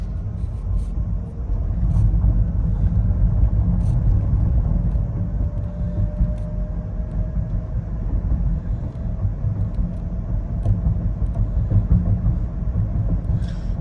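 A Rivian R1T electric pickup drives on a suburban road, heard from inside the cabin as a steady low tire and road rumble with a faint whine and no speech.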